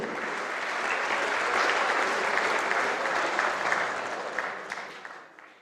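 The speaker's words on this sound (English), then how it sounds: "Can we please have a big round of applause for Team Egypt?" Audience applause for Team Egypt at an Under-23 World Squash Championship opening ceremony, a dense crowd clapping steadily, swelling slightly mid-way and tapering off toward the end.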